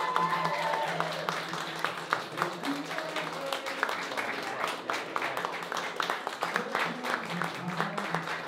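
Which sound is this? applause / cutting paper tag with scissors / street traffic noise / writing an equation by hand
applause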